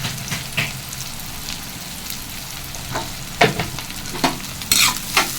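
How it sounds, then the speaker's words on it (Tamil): Onions sautéing with salt in a pan for chicken gravy: a soft continuous sizzle under intermittent scraping strokes of a spoon, a few louder stirs near the end, no talking. "வெங்காயம் வதங்க வந்து நான் சால்ட் போட்டுக்கிறேன்."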